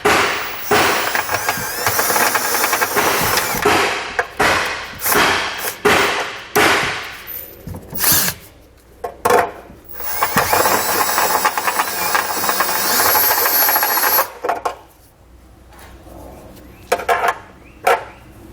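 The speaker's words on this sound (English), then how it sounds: "I'm going to use a step bit, and I'm just going to, again, just take away just enough material that it's going to have my hardware go in." Step drill bit cutting through the metal body of a 2020 GMC Terrain while a trailer hitch receiver is fitted, loud grinding bursts that start and stop repeatedly, with short pauses between cuts.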